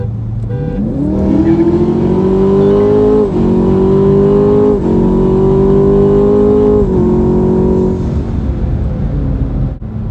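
Twin turbo Chevrolet Camaro ZL1 cars accelerating hard while racing, a loud close engine roar climbing through several gear changes with brief dips between shifts.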